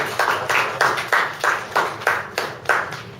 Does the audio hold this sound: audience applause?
yes